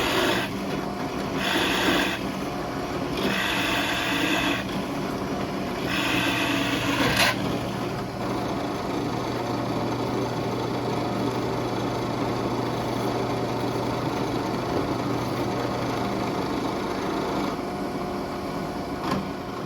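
A drill boring holes through wood for a Moxon vise makes a steady grinding whir that holds at an even, moderate level, with a few short rising bursts early on as the bit is pushed through.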